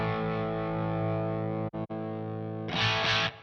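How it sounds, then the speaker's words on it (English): Distorted electric guitar through an Orange 2x12 cabinet simulation on a Two Notes Opus: a sustained, crunchy chord rings, cuts out twice briefly, then a brighter burst of strummed chords follows near the end. "That's definitely an orange cab."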